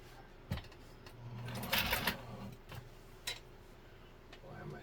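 A Nesco de Luxe push-button zigzag sewing machine stitches in short, moderately quiet mechanical runs, with a louder whirring burst in the middle and light clicks.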